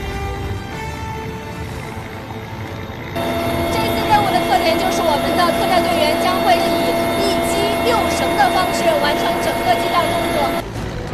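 A military helicopter in flight, carrying special forces troops for multi-rope fast-rope descents in a joint exercise; a steady droning engine with a tonal whine, heard from inside, growing louder after about three seconds and holding steady.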